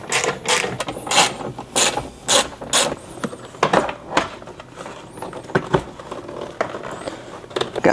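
Ratchet wrench with a 10 mm socket and extension working on a 3rd-gen Toyota 4Runner, giving loud, close bursts of rapid clicking with short pauses between turns.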